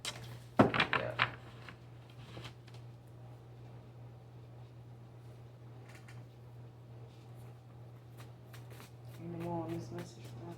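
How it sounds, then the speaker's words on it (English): A quick riffle of cards near the start, followed by a long low hum, scattered soft clicks and a brief murmur near the end. "One more shuffle and then that's gonna be it."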